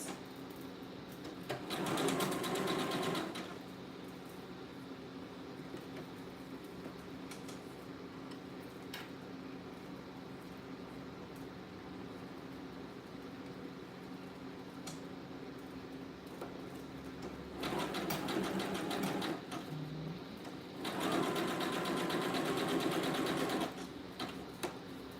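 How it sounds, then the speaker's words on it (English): A sewing machine stitches piping with a zigzag stitch in short bursts, one near the start and two more later. Quiet stretches separate the runs. "I'll be doing some piping, you all can see. And I think I'll be using the zigzag stitch to do this."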